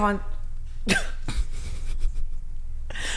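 A single sharp cough bursts out near the one-second mark, followed by a softer throat noise, with a low rumble of background noise.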